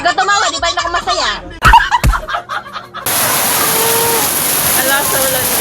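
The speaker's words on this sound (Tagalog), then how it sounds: "Ang lakas ng ulan, guys." People talk loudly and excitedly for a few seconds, then a heavy downpour fills the sound with a dense, steady roar of rain that continues to the end.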